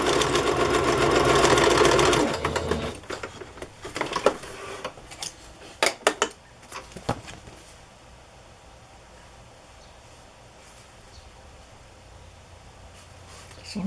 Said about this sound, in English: Seems to be sewing okay, it's just jumping.